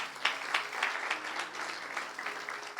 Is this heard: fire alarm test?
no